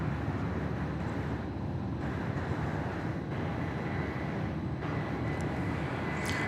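A Southwest Boeing 737-700 arriving at Dallas Love Field, a steady broad jet engine roar that holds at a fairly loud, constant level without clear rise or fall, and no talking.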